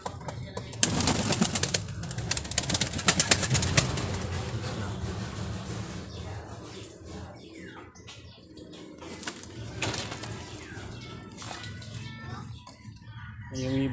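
Breeder pigeons coo and murmur in a busy, noisy space, with a loud clattering stretch early on and bird calls continuing throughout, fairly close.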